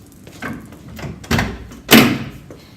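The door of a 1966 Chevelle is worked open with several knocks and thumps, building to a loud, sharp metallic clunk near the end, close by and with no talking.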